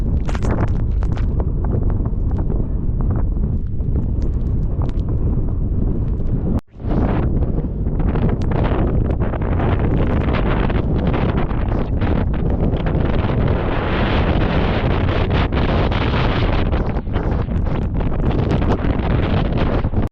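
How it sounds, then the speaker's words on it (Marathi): Strong gusting wind at a ghat top beside a reverse waterfall buffets the microphone in a loud, continuous roar with rushing, blown spray underneath, broken once by a brief dropout. "घाटमाथ्यावर जाताच भर्राट वारं"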